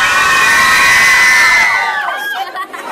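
Students packed into a school room shout and cheer together at full volume, a sustained loud crowd roar that holds steady before breaking into scattered whoops and trailing voices at the end.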